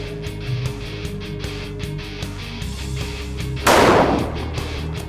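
A single loud shotgun blast fired at a target, a home-defense shotgun, bursts out sharply near the end after a quiet stretch of low background hum, then decays.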